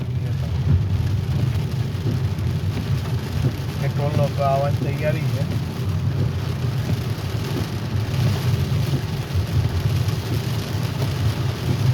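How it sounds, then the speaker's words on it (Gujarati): Heavy rain pours steadily onto a car driving on a national highway, a constant loud roaring wash with a low rumble underneath, and a voice speaks briefly midway. "એટલી સ્પીડમાં વરસાદ છે કે વાઇપર બી કામ નહીં કરતા"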